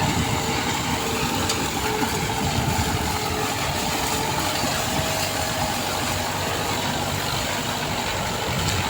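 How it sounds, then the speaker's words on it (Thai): A loud, steady mechanical drone of a sugarcane leaf shredder pulled by a Kubota M9540 tractor runs continuously nearby, with a rough low engine rumble and constant broadband noise. "ไอ้เครื่องปั่นใบนะครับ"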